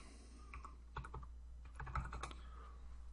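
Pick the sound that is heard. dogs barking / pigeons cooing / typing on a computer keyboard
typing on a computer keyboard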